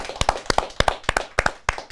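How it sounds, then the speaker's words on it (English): Audience at the Gasworks show clapping: about a dozen crisp, close handclaps in under two seconds, sparse and fairly rhythmic rather than a full crowd's roar. "Give us a round of applause, please."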